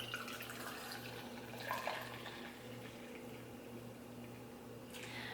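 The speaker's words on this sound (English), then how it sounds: "put it right in here and pour in our water" Water poured over loose Eucalyptus Mist green tea leaves in a cup, a steady, soft splashing stream that runs continuously at close range with no talking.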